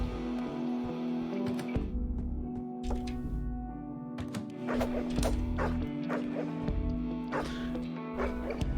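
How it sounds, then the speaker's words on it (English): Game dog in Deadbolt barking in short, repeated yaps over a steady hum of background music and game sounds. "the dog barking, it didn't like show up as alerted"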